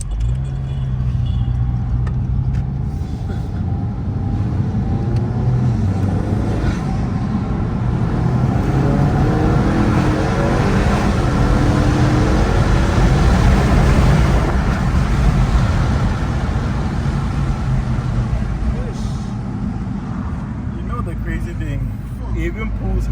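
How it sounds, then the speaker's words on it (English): A 410whp Honda Accord accelerates hard at high revs, its engine a loud, sustained drone with heavy wind and road roar that holds steady for over twenty seconds. "It even pulls hard whilst the revs are high up there."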